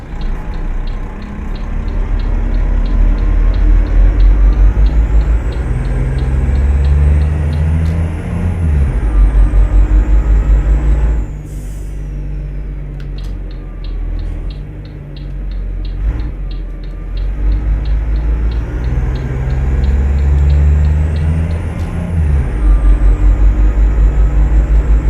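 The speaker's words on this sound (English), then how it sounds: "This bus sounds really good." A Greyhound bus cruising on the open road, its engine and road rumble steady and loud throughout, with a brief dip in the middle and air-brake hiss and rattles around it.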